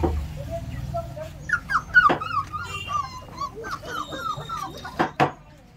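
A dog whimpers and yips in a run of high, whining cries, close by, with a couple of sharper sounds near the end.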